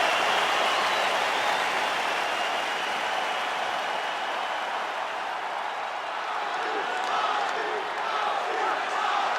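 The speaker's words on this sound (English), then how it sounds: "Khabib Nurmagomedov ready to make a statement in front of this capacity crowd here tonight" A capacity arena crowd roars steadily in the UFC 5 video game before a heavyweight championship fight, a dense, continuous wall of cheering and applause that stays loud throughout.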